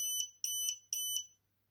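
A FCHAO 1200W sine-wave inverter's low-voltage alarm sounds three pairs of sharp, high-pitched electronic beeps in a steady rhythm, close and clear, then stops.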